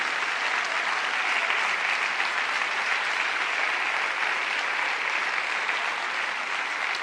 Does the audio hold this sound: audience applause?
yes